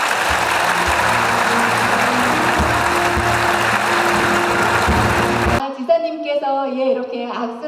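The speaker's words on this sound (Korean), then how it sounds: "여러분 큰 박수로 축하해 주시기 바랍니다." Crowd applause at the inauguration ceremony of Kim Tae-heum, 39th governor of South Chungcheong, a dense, steady wash of clapping for about five and a half seconds that cuts off abruptly, followed by a voice speaking.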